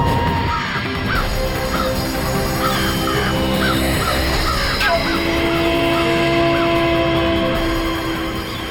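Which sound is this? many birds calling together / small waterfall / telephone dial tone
many birds calling together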